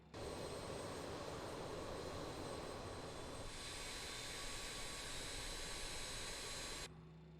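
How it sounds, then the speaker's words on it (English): Steady jet engine whine as engine number 1 of a BAE 146-300 airliner spools up in a flight simulator, a continuous roar that brightens partway through and then cuts off. "Now we can start engine number 1"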